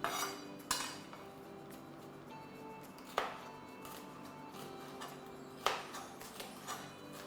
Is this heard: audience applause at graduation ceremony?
no